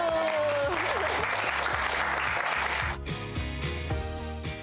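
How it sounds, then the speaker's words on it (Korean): A burst of clapping from a TV studio audience celebrating a middle schooler who became a professional baduk player, loud and dense for about two seconds before music takes over. "박수!"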